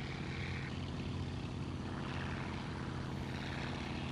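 A light aircraft's engine drones steadily in flight through a valley near a ridge, a loud, continuous propeller hum filling the cabin with no change in pitch.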